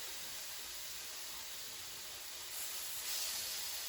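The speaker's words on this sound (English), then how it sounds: "I don't want this stuff sizzling." Steady hot-oil sizzling in a pan, a constant bright crackling hiss that swells slightly louder toward the end, with no talking.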